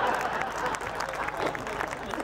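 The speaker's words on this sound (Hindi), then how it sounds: "ये 8-10 लोग ताली बजा रहे हो" An audience claps in a steady, even patter of many hands that runs the whole short stretch, with a voice faintly present beneath it.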